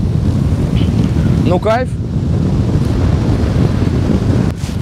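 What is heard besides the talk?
strong wind blowing on a hill, microphone wind noise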